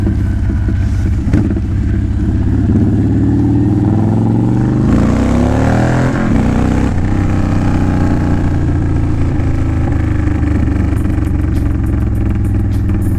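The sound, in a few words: Honda Fury motorcycle engine running with slight pop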